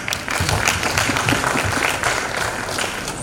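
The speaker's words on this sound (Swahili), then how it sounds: "let us give him a round of applause" An audience at a 2019 human rights defenders anniversary event in Tanzania breaks into sustained, dense applause, many hands clapping together steadily at close range for the whole stretch.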